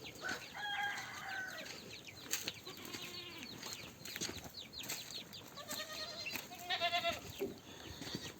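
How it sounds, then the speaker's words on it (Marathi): A goat close to giving birth on a farm bleats a few times among chickens clucking and a rooster crowing, with some wing flapping, all fairly faint. "ही बकरी येईल बघा एक अर्ध्या 1 तासामध्ये"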